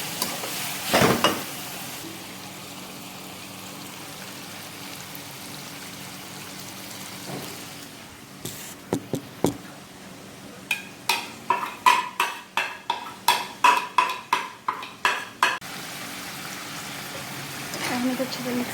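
Tomato masala for prawn karahi being stirred and fried in a pan: a soft steady sizzle, then a run of rhythmic scraping stirs building toward the end, with a voice speaking at points.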